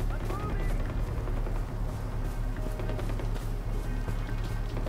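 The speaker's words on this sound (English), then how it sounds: "I already hear gunfire" Gunfire in Far Cry 4, a steady rattle of distant shots and bursts rolling beneath a low, continuous rumble, with no clear break in the noise.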